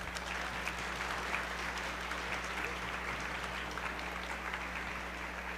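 Steady applause fills a poetry slam audience at a high school event, honoring the state representative; dense, even clapping from a crowd throughout, with a low constant hum beneath.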